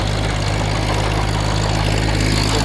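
Kubota tractor engine running on a field doing inter-row cultivation in sugarcane: a steady, close diesel drone with a low throbbing hum that holds even throughout, no talk.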